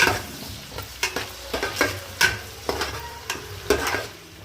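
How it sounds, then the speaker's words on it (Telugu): A spatula stirs vegetables with cloves and cinnamon frying in oil for veg pulao, giving irregular scraping taps and clatters over a low, steady sizzle, close and fairly quiet. "ఆయిల్లో బాగా ఫ్రై అవ్వాలి కదా వెజిటేబుల్ అనేది."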